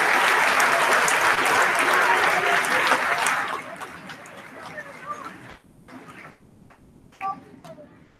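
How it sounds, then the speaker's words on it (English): An audience at a fifth grade promotion ceremony applauds loudly for the students for about three seconds, then the clapping thins out and fades, leaving scattered claps and room murmur. "Let's give all of our fifth grade, soon to be sixth grade students, a big round of applause."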